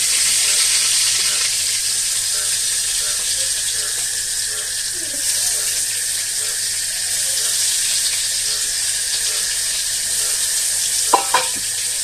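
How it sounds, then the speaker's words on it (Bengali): Eggplant rubbed with salt and turmeric frying in hot oil, a loud steady hiss of sizzling throughout, with a couple of brief clinks near the end. "এখন এই যে তেলে বেগুনটা দিচ্ছি"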